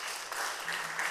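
Audience applause in a lecture hall following a talk, a brief steady wash of clapping at moderate level with no voices over it.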